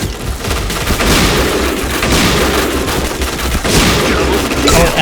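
Rapid bursts of gunfire in the shooter game Point Blank, loud and dense, with bursts rolling almost without pause across the whole stretch.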